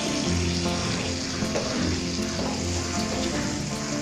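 Leftover water from boiling mutton and beet pours steadily into a hot pan, giving a continuous loud hiss and splash that fills the whole moment without pauses.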